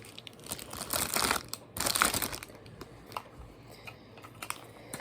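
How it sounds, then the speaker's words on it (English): A crinkly object is handled close to the microphone in a soft ASMR setting, making bursts of crisp crackling and rustling that swell twice and then settle into lighter, scattered crinkles, with no voice. "This is crinkly, just so you know."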